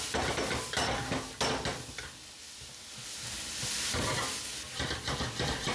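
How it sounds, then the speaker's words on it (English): A spatula scrapes and clanks against a pan while shredded cabbage and green onion fry for egg fried rice, irregular metallic stirring strokes over a soft steady sizzle, close up with no speech. "Give it a good stir so that the vegetables can be mixed properly"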